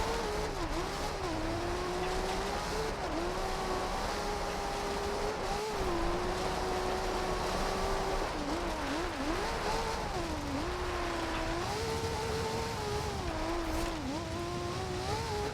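A Nissan Silvia in Forza Horizon 2 revs hard and continuously, its engine pitch rising and dipping through gear changes and slides, with tire squeal mixed in, loud and unbroken with no talk.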